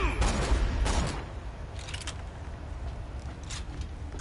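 A volley of gunshots in the Borderlands 2 video game: loud bursts at the start, then scattered sharper shots at a distance, over a steady game background.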